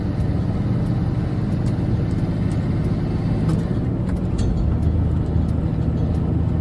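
A steady, loud truck engine drone with low rumble throughout, holding constant without a clear rise in pitch.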